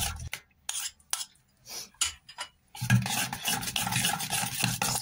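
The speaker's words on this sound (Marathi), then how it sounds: "असं मिक्स करून घेतलंय चांगलं" A paneer mixture with yogurt and spices is stirred and scraped in a bowl, at first in short separate strokes with pauses, then in a continuous, louder rubbing stir.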